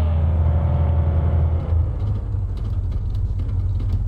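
A car drives past close by, its loud engine rumble and road noise swelling and then fading with no talk over it.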